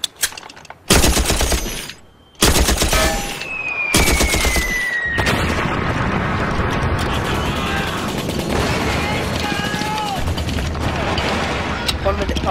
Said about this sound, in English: Now, resume firing.